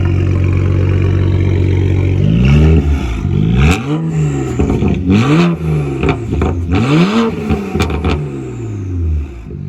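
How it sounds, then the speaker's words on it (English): A BMW 335i with a full straight-pipe exhaust revs repeatedly up close, several sharp raspy blips rising and falling over a loud idle. "It's pretty raspy, but I figured that's what you get for a full straight pipe, right?"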